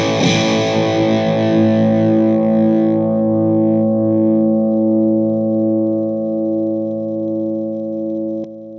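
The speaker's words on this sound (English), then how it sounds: "where the distortion has a nice top end sizzle to it, the sustain adds some body, adds some mids to the signal" An electric guitar played through vintage distortion and sustain pedals rings out as one long, loud sustained chord, bright fizzy top fading after a few seconds while a thick, steady body holds on until a sudden drop near the end.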